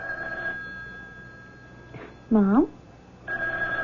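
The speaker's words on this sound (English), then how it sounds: "Why don't you answer the phone?" A telephone rings in a radio drama, a short burst of bright warbling rings rising between pauses while someone speaks before and after.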